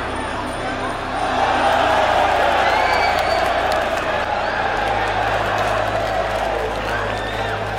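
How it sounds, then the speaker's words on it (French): A crowd at a Muay Thai fight breaks into sustained applause and cheering, a dense continuous roar of clapping and voices that swells after the first second and holds loud throughout. "tandis que le public éclatait en applaudissements"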